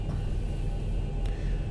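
Boeing 737-700 jet engines running in X-Plane 11, a steady low rumbling drone with a faint high whine, continuous and even throughout.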